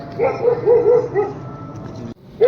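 A puppy being hit gives a run of high, strained yelps and whimpers, close and fairly loud, repeating rapidly for about two seconds before a brief pause.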